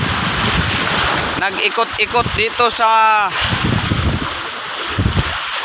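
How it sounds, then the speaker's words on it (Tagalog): Strong wind buffets the microphone at the seashore while waves wash in the background, with someone talking over it throughout. "Dahil lumakas na naman ang hangin"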